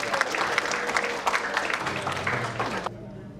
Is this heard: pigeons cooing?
no